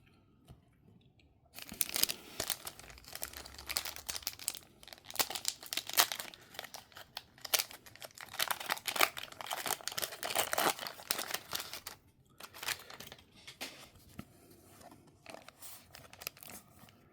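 Foil packs of Hermitcraft trading cards are torn open and handled, giving a long run of close, dense crinkling and rustling with short tearing bursts and brief quiet gaps.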